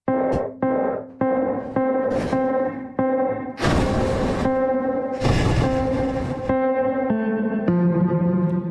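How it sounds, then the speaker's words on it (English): A bright, sustained tone smeared by a dense, shimmering granular reverb from the K-Devices Magma iOS app, the tail swelling into washes of grainy noise between repeated notes. "This sounds more like a typical reverb, right?"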